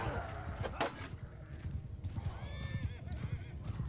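Cavalry horses in a medieval battle video game, steady galloping hoofbeats throughout with a loud neigh rising over them partway through, over a busy battle din.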